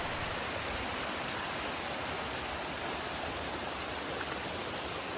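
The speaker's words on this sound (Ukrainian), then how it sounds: "А це водоспад Труфанець, який знаходиться неподалік селища Ясіня він також впадає у чорну тису." Trufanets waterfall near Yasinia in the Carpathian mountains, flowing into the Chorna Tysa river, gives off a steady, dense roar of rushing water, loud and close, with no voices.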